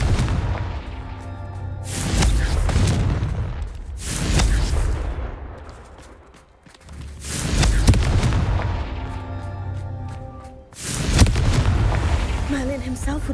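Booming fire-spell blasts from the Hogwarts Legacy video game, several loud bursts in a row with roaring tails, some stacked close together and others spaced a few seconds apart, with faint speech at times.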